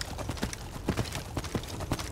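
Horse hooves clip-clop steadily in Skyrim, a brisk repeated rhythm of soft thuds under a continuous game ambience, with no talking over it.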